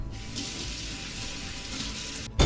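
Tap water runs steadily into a sink while watercolor painting water is being changed, a continuous close splashing hiss that stops abruptly just before the end with a brief louder clatter.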